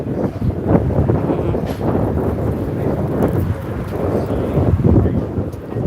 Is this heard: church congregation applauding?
no